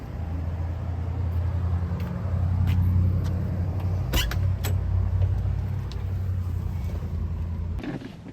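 A 1968 Mercury Cougar pulling away on a test drive, its engine giving a steady low rumble throughout, with several sharp clicks and knocks from the car along the way.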